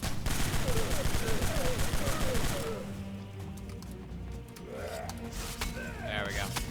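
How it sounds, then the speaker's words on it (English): Gunfire rattles in the pirate video game Captain Blood, a dense burst of shots over busy game sound, then a quieter stretch with a few scattered effects. "And then shoot him with the pistol."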